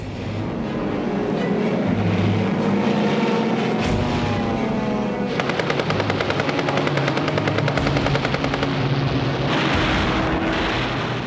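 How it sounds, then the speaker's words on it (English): World War II military aircraft attack a Japanese convoy in the Pacific: a loud, constant engine drone with bursts of rapid rattling fire partway through. "he scrambles aircraft to attack the Japanese convoy"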